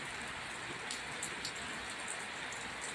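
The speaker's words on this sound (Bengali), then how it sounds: "দেখি বৃষ্টিটা আবার জোরে শুরু হয়েছে।" Heavy rain pouring onto a rooftop, a dense, even roar of drops that continues without letup, with a few sharper patters standing out.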